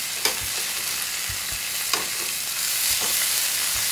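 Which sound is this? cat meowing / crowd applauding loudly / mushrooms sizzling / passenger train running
mushrooms sizzling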